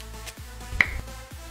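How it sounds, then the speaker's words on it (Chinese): A single crisp finger snap rings out close and clear over a low droning background, standing alone without any talking. "打了个响指。"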